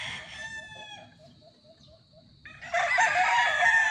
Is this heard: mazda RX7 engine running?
no